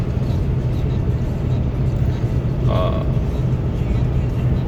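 A Ram 3500 pickup with the 6.7 Cummins diesel cruises steadily around 1700 RPM, giving a constant low drone and road noise inside the cab, with a brief creak partway through.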